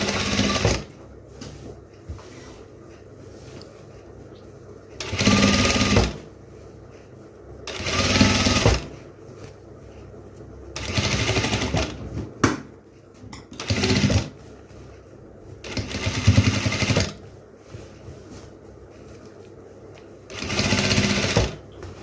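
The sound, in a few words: sewing machine stitching a crop top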